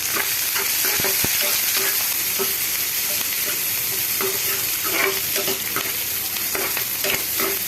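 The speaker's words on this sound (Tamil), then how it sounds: "வெங்காயம் சும்மா ஒரு 2 வெங்காயம் போட்டுட்டு நல்லா வதக்கணும்." Two onions sautéing in a pan for hotel-style chicken curry: a steady, close sizzle of frying with repeated scraping and stirring strokes from a spoon, with no voices.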